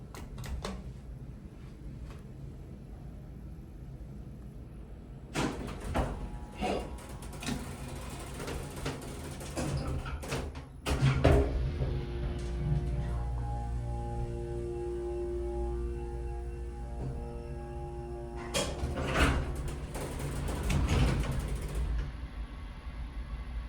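An original Houston hydraulic elevator, fitted with a replacement motor, rides with a faint mechanical hum, while scattered relay clicks and clunks of doors and machinery sound close by, growing louder in bursts and then settling.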